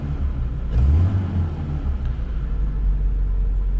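A vintage 1968 BMW 1602 runs with a deep, steady rumbling engine and low road drone, loud and close, with a slight swell near the start and no talking.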